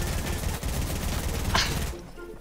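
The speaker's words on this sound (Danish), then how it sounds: "Ej, jeg blev skudt." Gunfire in a Fortnite match, a dense burst of rapid shots filling the first two seconds, close and loud, ending in a sharp crack before falling quiet.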